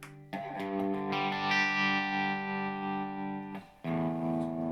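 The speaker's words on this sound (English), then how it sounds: "And you can go nice and slow on the tremolo," Electric guitar played through a NUX pedal with tremolo at a slow setting, sustained chords swelling in a slow, gentle pulse with distortion and reverb, loud and close, with a short break before the strum returns.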